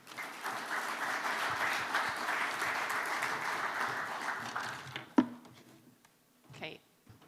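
A conference audience applauds to welcome a speaker: a steady wash of clapping that lasts about five seconds, then fades out into a brief knock and a quiet room.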